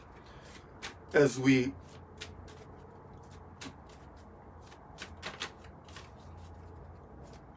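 Tarot cards being shuffled, a brief riffling burst followed by a few soft card taps and flicks, close and fairly quiet, with a voice speaking briefly over them.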